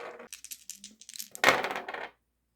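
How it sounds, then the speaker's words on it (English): White defense dice for the Star Wars Legion tabletop game clatter briefly onto a table, a quick close rattle of small hard pieces that settles after about two seconds, with no talk. "you just roll white dice"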